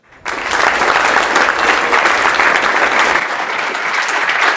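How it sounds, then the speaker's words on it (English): Loud, dense audience applause at a Clojure programming conference talk fills the whole stretch after a brief silent start, a steady wash of many hands clapping close and continuous. "please give a big warm applause to Artem Barmin"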